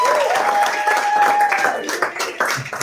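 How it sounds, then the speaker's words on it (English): Audience members at a talk give a scattered round of applause while a voice and a sustained tone carry over the clapping, which thins out toward the end. "Okay, ladies and gentlemen, a round of applause,"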